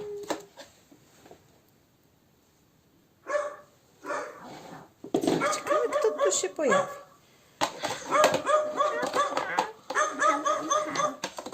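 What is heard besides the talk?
dog barking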